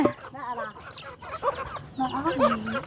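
Farmyard chickens cluck in a series of short, close calls that come and go over a few seconds, fairly soft against a quiet background.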